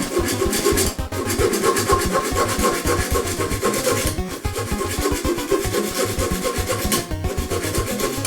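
A mini hacksaw cuts through soft brass in fast, continuous rasping back-and-forth strokes, heard up close and loud with two brief pauses and no talking.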